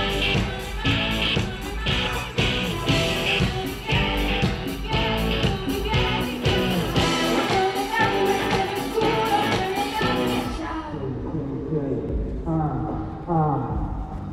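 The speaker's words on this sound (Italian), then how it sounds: "Quello che sentite è un soundcheck." Band soundcheck on an outdoor concert stage at a May Day event: loud amplified music with rhythmic hits plays, then cuts off, leaving a softer tonal passage at the end.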